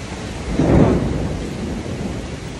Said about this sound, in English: it's pissing down with rain right now